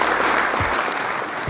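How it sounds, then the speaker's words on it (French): A crowd applauds volunteers at a French national carp-fishing club championship prize-giving, a dense, steady wash of clapping that fills the whole moment without a break. "Donc je tiens à ce qu'on les applaudisse vraiment très très fort, les bénévoles"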